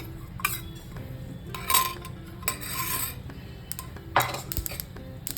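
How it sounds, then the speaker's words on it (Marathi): Sesame seeds roast in a pan on a home stove for mukhwas, with a spoon scraping and clinking against the metal in irregular strokes over a steady low background hum. "आता मी तीळ टाकून घेते"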